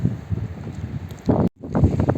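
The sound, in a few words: strong wind by the river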